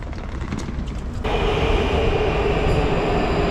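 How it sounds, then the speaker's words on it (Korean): Subway train in a Prague metro station, a rumbling rush that jumps suddenly louder partway through as the train arrives, then continues as a steady loud roar with a faint high whine. "지하철 한번 갈아타러 가볼게요"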